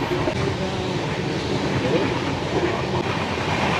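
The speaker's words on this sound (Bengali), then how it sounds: "ট্রেনের স্পিড মোটামুটি আছে এরকম 110-এর কাছাকাছি।" A Paharia Express LHB passenger train running on rails at around 110 km/h, giving a steady, loud, continuous rumble with faint rhythmic clatter, heard from on board.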